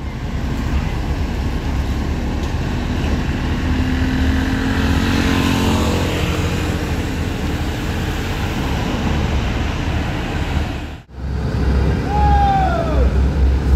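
An MPM Tirkamsa 75 Sultan Class bus rumbles as it pulls away from a rest area in West Sumatra, a steady loud engine drone with road noise and a brief dip near the end, with someone narrating over it.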